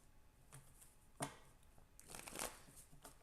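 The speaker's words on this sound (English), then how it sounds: "Let's pull some cards." Tarot cards are shuffled by hand in a few quick riffling bursts, soft and close, with brief pauses between the crisp shuffles.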